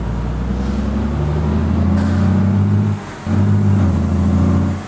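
A fully loaded Mercedes Tourismo bus labours up a very steep road, its engine droning loud and close, with a brief dip in power near the end before it pulls hard again.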